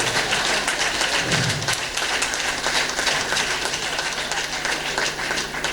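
An audience at a gathering in Cotonou claps steadily, a dense, even wash of applause that holds at constant loudness from start to finish.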